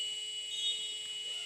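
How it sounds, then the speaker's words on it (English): A basketball game-end buzzer sounds as a steady electronic tone, held continuously through the brief moment at moderate loudness over faint arena background. "Just after the buzzer"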